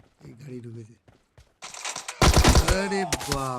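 Automatic gunfire in the PUBG video game: quiet game sounds give way to loud, rapid bursts of shots in the second half, up close and dominating the mix.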